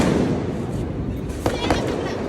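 Diwali firecrackers crackle and pop in a continuous noisy wash, with two sharper bangs near the end, set against a busy festive background with voices.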